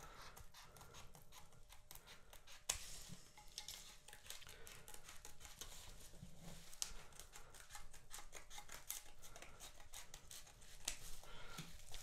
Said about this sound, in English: I'll try the scissors first, just so I don't score the profile.